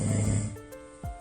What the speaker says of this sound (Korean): 직접 녹음해왔다는 코골이 소리